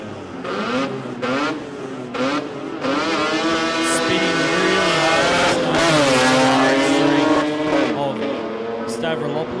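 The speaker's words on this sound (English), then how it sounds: "a lot of smoke out of the RX3 as it goes on down the racetrack" Mazda RX3 drag car launching and racing down the strip at a sports compact drag meet in Brisbane, a loud rising engine roar with gear changes, while a commentator talks over it throughout.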